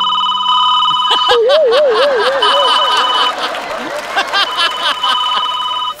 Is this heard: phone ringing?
yes